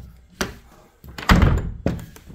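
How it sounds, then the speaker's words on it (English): A door pulled shut and latching after its hardware was tightened: a soft thunk, then a louder closing thud with a latch click, and a final knock, close and alone. "And then I pulled the door shut."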